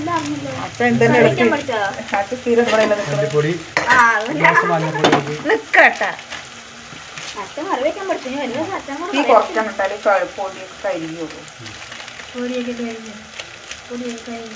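Tomatoes with chili powder fry in a pan with a continuous soft sizzle, while someone talks steadily over it almost the whole time.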